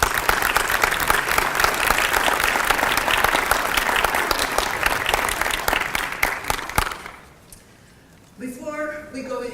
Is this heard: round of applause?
yes